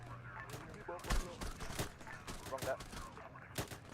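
Gunfire in the military game Arma 3 during a squad milsim with Royal Marine Commandos: faint, distant cracks repeat in an irregular series, a few per second, over a low background.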